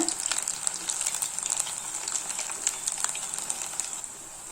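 Pieces of snake gourd 65 frying in hot oil, a dense, steady sizzle with crackling pops running throughout, close and continuous with no voice.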